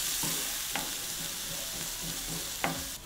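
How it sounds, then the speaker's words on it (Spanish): A spoon stirs Peruvian aderezo seasoning base in a pot over steady sizzling, with a few sharp scrapes against the pot standing out at intervals. "Y por aquí seguimos removiendo el aderezo."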